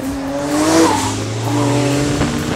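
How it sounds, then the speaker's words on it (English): A 1400 hp AMS Performance Alpha 12 Nissan GT-R powers out of a corner, its engine roaring loud and close as the revs climb, with a brief tire squeal and no talking. "every time I power out of a corner, it feels like I'm being launched from an aircraft carrier"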